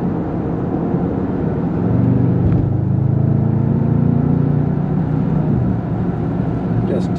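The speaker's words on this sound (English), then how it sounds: "Let's see how our acceleration is to get up into traffic." A 2021 Bentley Continental GT V8 with a 4-liter twin-turbocharged engine accelerating onto a highway from a cloverleaf ramp, a steady low engine drone that swells partway through, heard from inside the car.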